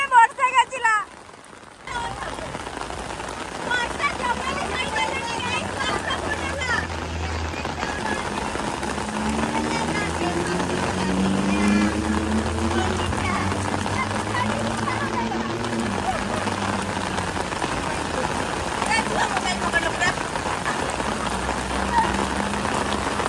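Steady rain falls and patters on surfaces for a long stretch after a brief opening sound, with geese honking intermittently in the background.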